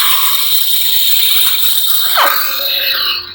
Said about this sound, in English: Or hold it down for blade lockup.